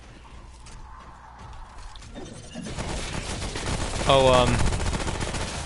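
SMG fire in the video game Remnant comes in as a dense automatic burst that starts after a couple of quiet seconds and swells louder toward the end, while a voice briefly exclaims over it.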